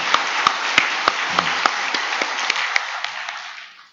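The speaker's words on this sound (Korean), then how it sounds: "다시 한번 격려의 박수 한번 하도록 하겠습니다" A church congregation claps for the choir in a short burst of applause, with a few sharper individual claps standing out, fading away after about three and a half seconds.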